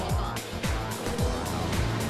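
A race car engine at Tsukuba Circuit during a Rev Attack time-attack session drones loudly and continuously, with repeated falling pitch sweeps as it shifts gears or passes by.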